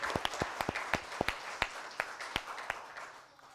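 A small audience at a school district board of education meeting gives a short round of applause, scattered sharp claps rather than a dense ovation, fading out toward the end with no talk over it.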